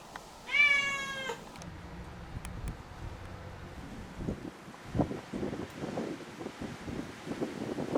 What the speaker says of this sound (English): a needy cat.